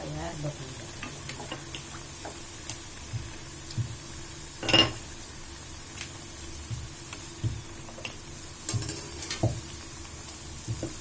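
Puri frying in hot oil in a home kitchen, a faint steady sizzle broken by scattered soft clicks and one louder burst of bubbling midway as the dough puffs.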